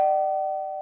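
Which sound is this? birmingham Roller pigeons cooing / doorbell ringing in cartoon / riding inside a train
doorbell ringing in cartoon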